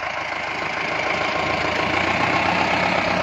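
A motorcycle engine idles with a steady mid-pitched putter while the rider shifts into first gear, a continuous close running drone with a slight rise toward the end.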